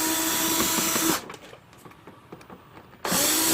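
A power tool whirs loudly while backing screws out around the headlight of a 2008 Infiniti QX56, running steadily for about a second, pausing briefly, then starting up again.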